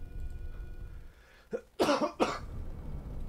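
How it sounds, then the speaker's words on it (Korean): A person coughs in a few sharp, close bursts, a single cough followed by two louder ones, against a quiet room background with no talking. "이렇게 기침을 해야 되니까 내가 편집점을 잡을 수가 없어"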